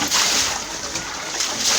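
Water thrown and splashing inside a flooded room of a railway colony house with a leaking roof in Rawalpindi, a continuous sloshing, splattering wash close by with no clear talk over it.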